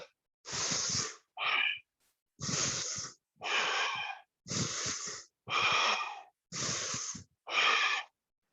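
Deep, forceful breaths during a power yoga stretch, about eight loud, close inhales and exhales in an even rhythm, each separated by a short silence, with no talking.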